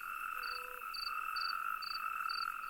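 Natterjack toads call in a chorus, a steady droning trill with brighter pulsed croaks repeating about every half second, loud and close with no talking.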